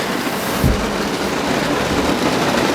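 Steady, dense rain noise from a heavy downpour fills the whole stretch, heard from inside a 2000 Toyota Avalon XLS, a continuous broadband wash with a brief low thump near the start.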